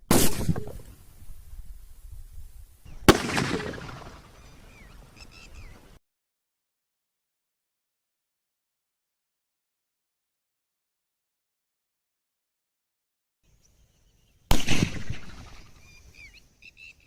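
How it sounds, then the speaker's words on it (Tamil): A sealed pressure cooker bursting: three sudden, loud, sharp bangs, each trailing into a brief rumbling decay, the last one arriving after a long stretch of silence. "இதனால குக்கர் வெடிச்சு செதறி பீஸ் பீஸா போயிடுச்சு"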